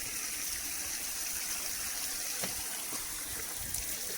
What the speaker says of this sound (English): It's actually coming from under the mountain, and it comes out over here where I'm located.